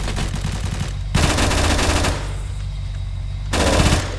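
Automatic weapon fire in the Roblox game Blackhawk Rescue Mission comes in loud, close rapid bursts with brief pauses between them, over a constant background game hum and with no speech.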